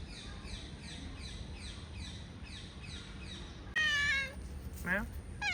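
A cat meows twice in quick succession at the Blue Mosque, the cries rising and falling, while small birds chirp steadily in the background.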